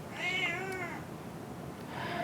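A cat gives one clear, drawn-out meow at close range, then a shorter second meow about a second later, set against a quiet indoor background with no talk.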